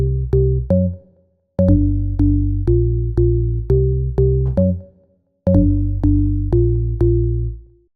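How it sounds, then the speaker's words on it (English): A house-music organ bass sample plays punchy, staccato organ-like bass notes in a bouncy repeating pattern, with each phrase ending in short gaps of silence. It sounds loud and dry, with no voices. "Bass Organic is the typical organ bass that you can hear in so many house tracks"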